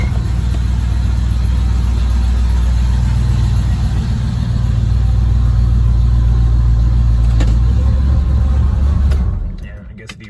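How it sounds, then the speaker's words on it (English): Engine of a 1968 Pontiac Firebird convertible running at a steady, close, deep idle before it shuts off and falls quiet near the end. "Turn the key. It fires right up."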